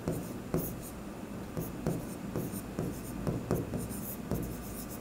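Pen writing on paper during an accounting lesson, a steady close scratching with rhythmic strokes repeating about every half second.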